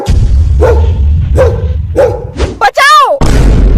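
Cartoon dog barking in a Desi comedy cartoon for kids, several sharp barks at a steady pace over a low background rumble, ending in a warbling whine-like cry, loud and close.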